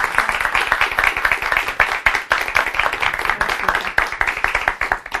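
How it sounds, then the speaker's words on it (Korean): A seated audience at a leadership talk gives a steady round of applause welcoming a guest speaker, dense continuous hand clapping throughout with no voices above it. "큰 박수 부탁드립니다"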